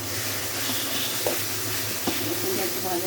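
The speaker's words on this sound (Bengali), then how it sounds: "রসুনটা একটু ভাজা ভাজা করে নিতে হবে।" Garlic frying in a pan for a small-fish recipe gives a continuous sizzle, with a couple of faint scrapes from stirring.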